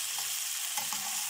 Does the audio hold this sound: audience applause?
no